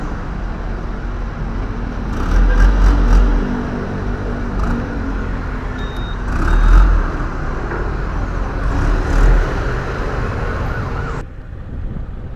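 Road traffic on a drive toward Pasig, a steady loud roar of engines heard close from a delivery rider's position, swelling in waves, with a siren-like emergency vehicle passing and no speech.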